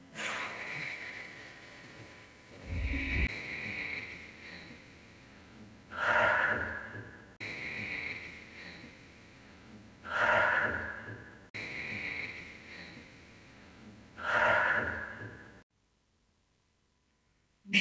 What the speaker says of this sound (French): Je vous laisse prendre encore une dizaine de souffles ainsi.